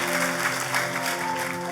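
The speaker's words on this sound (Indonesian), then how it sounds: "Kita kasih tepuk tangan yang paling meriah buat Tuhan kita." A church congregation applauds during a service, steady crowd clapping throughout with sustained organ or keyboard tones held underneath.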